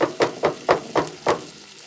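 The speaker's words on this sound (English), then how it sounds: "All right, I'm sauteing this baby down." Onions sautéing in grapeseed oil in a pan for a Philadelphia cheesesteak, heard as six evenly spaced sizzling, scraping bursts close up, with no voices.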